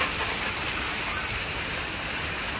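Rain pouring down during a thunderstorm with tornado conditions, a dense, constant loud hiss of water close by, no voices.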